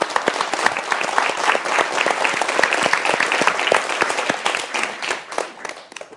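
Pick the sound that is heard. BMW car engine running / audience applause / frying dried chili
audience applause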